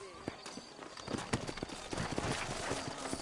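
Horse hooves clip-clopping in the video game Red Dead Redemption, a quick uneven run of close hoof knocks over a soft bed of game ambience, with no clear talk.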